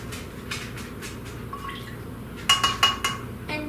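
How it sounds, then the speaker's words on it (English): Tablespoons of milk go into a bowl for no-bake edible chocolate cookie dough bars: a soft background hiss, then a quick run of four or five close, bright drips and splashes near the end. "you're going to need tablespoons of milk. So I'm going to put that in."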